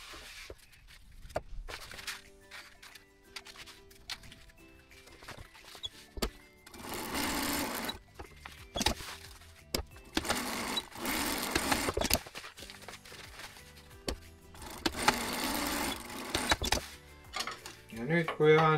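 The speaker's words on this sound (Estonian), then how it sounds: "saate siis siit ringi ratast ta oma õmblusmasinaga kokku lasta" A sewing machine stitches a fabric pocket together in several bursts of rapid mechanical whirring, separated by pauses with small clicks and handling noises. A person speaks in the gaps between bursts.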